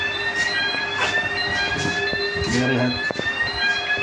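An in-vehicle monitoring system alarm gives a steady high electronic beeping tone, with a voice speaking briefly beneath it.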